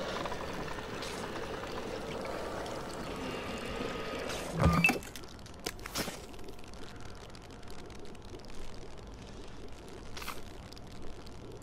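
Water is poured to fill a container in the video game We Happy Few, heard as a steady liquid stream, then a brief splashy burst followed by fainter trickling and occasional clinks.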